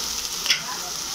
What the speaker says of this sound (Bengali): চলো একটু বেশ লাল লাল করে ভাজতে হবে